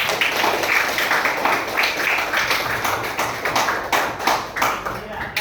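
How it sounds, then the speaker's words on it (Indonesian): Clapping in a classroom as students are applauded after a group demonstration: dense, steady handclaps run throughout at an even level, with voices talking over them. "Kasih tepuk tangannya."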